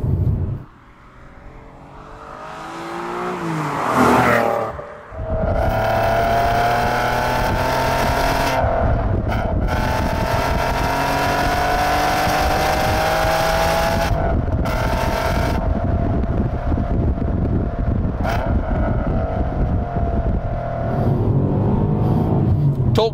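A 3.2-litre V6 in an Alfa Romeo GT blips through a downshift, then pulls hard and loud under sustained acceleration on a road behind a bus, with the engine note rising steadily and a few gear changes.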